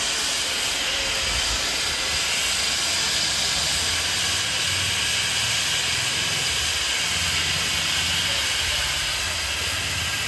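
Continuous loud hiss of steam from a stopped coal-fired Darjeeling toy train steam locomotive, steady and unbroken, with a low rumble underneath.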